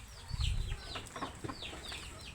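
Chickens cluck and squawk in short, scattered calls nearby, with a soft flutter early on against a quiet outdoor background.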